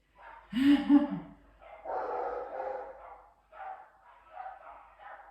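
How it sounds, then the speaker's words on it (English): Several neighbourhood dogs bark at a distance, with one sharper bark near the start, mixed with a person talking over the top. "my dogs are now joining in with all the other neighbourhood dogs"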